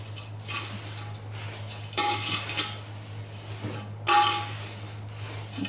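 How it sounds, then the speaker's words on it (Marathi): Poha chivda being stirred in a large aluminium pot, with scraping and metallic clinks coming in several bursts over a low steady hum, close and clear. "माझ्याकडे ॲल्युमिनियमचं मोठं पातेलं आहे, त्याचमध्ये मी हा चिवडा हलवून घेणार आहे"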